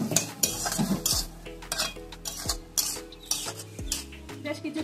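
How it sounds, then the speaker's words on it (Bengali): Fish head and kochu shak (taro leaves) are stirred in a pan, a spoon scraping and clanking against the metal in repeated close, fairly loud strokes over a soft background sizzle, with no talking. "এবার ভালোভাবে নাড়তে থাকবো।"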